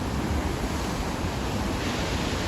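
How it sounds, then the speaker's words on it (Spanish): Strong ocean waves crash and splash against the shore at night on the Tenerife coast where people fish for sargos, a steady, dense roar of surf with no voices. "les están salpicando las olas cuando vienen fuertes"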